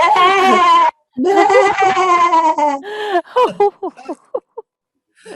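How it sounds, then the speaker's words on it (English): A sheep bleats in two long, wavering, quavering cries, loud and close, followed by a string of short, choppy voiced bleat fragments that fade out. "What about the poor old sheep as well?"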